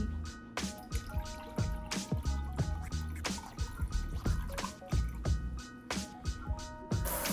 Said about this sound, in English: now I'm going to add in some water so you can see